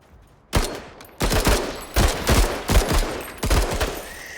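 Loud, booming gunfire from the video game Menace, with a series of heavy shots and bursts arriving in irregular clusters, each with a deep thump and a ringing decay.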